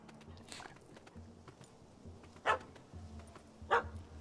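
Dog barking in The Witcher 3, a few separate barks spaced irregularly, moderately close over quiet ambient game sound and a low hum.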